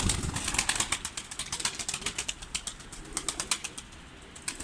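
Pigeons flapping and clapping their wings, a rapid run of sharp wing claps and flutters, fairly close and fading slightly toward the end.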